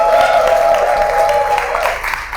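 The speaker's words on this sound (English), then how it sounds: "Give yourself a round of applause for that." Audience applause at a horror short film contest screening, a loud wash of crowd clapping and cheering with a sustained tone running underneath, fading a little toward the end.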